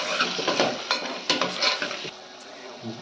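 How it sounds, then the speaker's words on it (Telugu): Tomato and potato pieces fry in oil in a pan, a steady close sizzle broken by louder scraping stirs through the first two seconds, then a quieter, even hiss. "కట్ చేసి పెట్టుకున్న టమాటా, అలాగే ఆలు ముక్కలు వేసుకొని ఆయిల్లో బాగా ఫ్రై చేసుకోవాలి"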